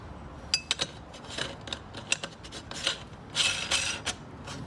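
Stainless steel grinder plate being fitted into the mechanism of a LEM meat grinder, a run of light metallic clicks and scrapes in uneven bursts, close and fairly quiet, with a denser clatter near the end.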